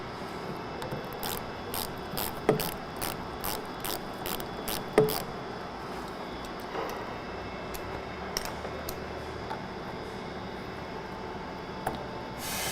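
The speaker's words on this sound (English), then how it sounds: "You can use either a screwdriver, a flathead screwdriver, or a 5/16 socket. Since it is facing down, we'll utilize the socket." A 5/16 socket wrench ratchets loose the fuel fill neck clamp on a 2020-2023 Winnebago Revel during an S&B 40-gallon fuel tank swap, giving off bursts of sharp clicking in irregular runs with pauses between them, close and alone.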